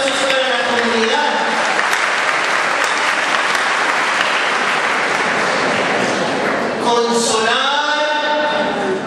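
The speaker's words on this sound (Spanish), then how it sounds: "Ahora el aplauso es para la comunidad." Church congregation applauding steadily throughout, loud and dense, during a Holy Thursday service, with a voice speaking over the clapping at the start and again near the end.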